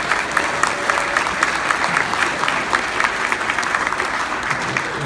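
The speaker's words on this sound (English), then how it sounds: "And another round of applause for our superstars." Steady audience applause fills a room at a class reunion evening, dense sustained clapping from many hands with no talk over it.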